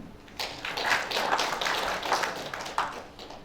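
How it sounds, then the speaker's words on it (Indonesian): Audience clapping hands at a gathering, a steady, fairly close round of applause that swells and holds for a few seconds before tapering, with no talk over it. "Oke, tepuk tangan"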